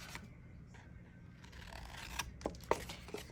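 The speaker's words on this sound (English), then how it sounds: "I'm gonna snip my corners off" Scissors snip the corners off paper for a folio mini album, giving a few quiet, short cuts close by.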